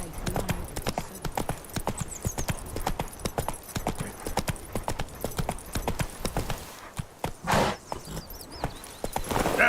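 Roach the horse trotting in The Witcher 3, hooves clip-clopping in a quick, steady rhythm close by, with a brief snort and whinny-like bursts near the end and faint game ambience underneath.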